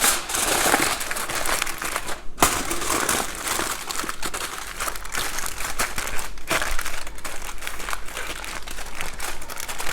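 Aluminum foil crinkles and crushes continuously while being wrapped tightly around a brisket, a close, dense crackling that runs steadily for the whole stretch with only brief pauses.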